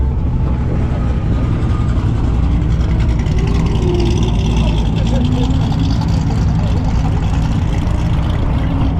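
An S650 Ford Mustang GT fitted with a huge turbo rumbles and revs loudly and continuously at a Cars and Coffee meet, while voices talk over it.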